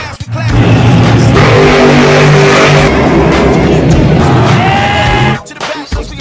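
A 1994 Dodge Viper RT10 sports car engine revs loud and close, a sustained roaring rev that holds steady for several seconds before cutting off abruptly, with a brief voice at the very end.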